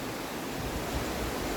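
Fall Creek flows in the Willamette National Forest, a steady broadband rush of moving water heard alone at a moderate level with no break.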